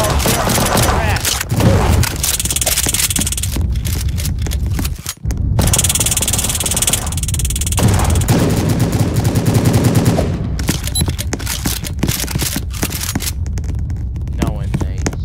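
Rapid gunfire in the Roblox game Prison Life, dense bursts of automatic shots filling nearly the whole stretch with only brief gaps, loud and close, while a player's voice talks over parts of it.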